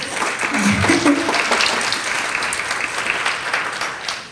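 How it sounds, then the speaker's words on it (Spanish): Loud, sustained applause from an audience at a Latin American climate resilience forum, a dense, even roar of clapping that holds for several seconds before starting to taper. "Un aplauso para Adriana, por favor."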